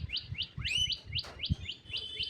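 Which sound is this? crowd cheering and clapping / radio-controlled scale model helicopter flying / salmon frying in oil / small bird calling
small bird calling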